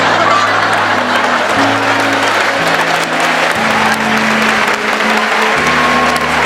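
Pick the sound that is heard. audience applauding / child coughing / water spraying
audience applauding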